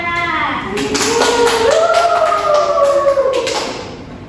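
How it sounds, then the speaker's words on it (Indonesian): Schoolchildren in a fourth-grade maths class clap for a classmate, a scattered burst of hand claps mixed with children's voices, some sustained or sung, fairly close and loud throughout. "Beri tepuk tangan kepada Hasya"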